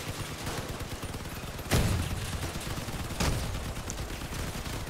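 Gunfire in the vehicle combat game Crossout: a steady crackle of automatic fire runs throughout, broken by two loud, sharp cannon-like blasts near the start and middle, with no voices.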